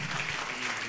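Audience clapping loudly in a continuous dense burst, close and full, with a voice faintly present beneath.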